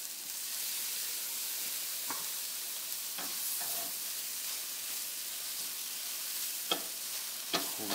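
Lemon juice sizzling on a hot comal, a steady frying hiss running throughout with a few brief louder crackles and pops near the end, close and without talk.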